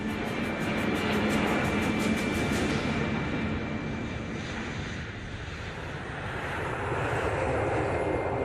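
Passenger jet engines roar steadily at Heathrow airport, a loud continuous rush that eases slightly midway and then builds again, with no voices over it.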